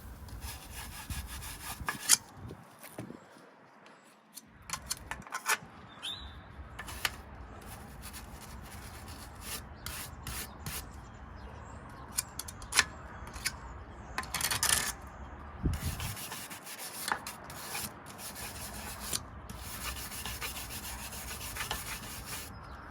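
A stiff barbecue brush scrubs a BMW wheel hub clean before fitting wheel spacers, giving close, irregular rasping strokes with bursts and brief pauses, no talking heard.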